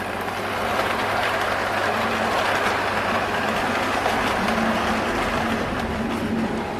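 A small live-steam model engine runs steadily in a home workshop shed, a continuous, even mechanical rumble with a faint rhythmic chuff, close and unbroken, with no talk over it.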